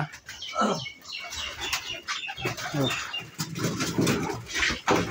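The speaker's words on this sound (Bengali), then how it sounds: "তো আপনার এখানে ভাই কবুতর দেখলাম আছে, কবুতর আছে কয় জোড়া?" Pigeons kept by a breeder, coos and fluttery calls close by, mixed with clucking fowl, while people talk over them.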